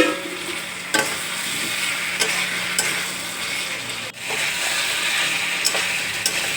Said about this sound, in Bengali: ভালো করে কষিয়ে দিচ্ছি।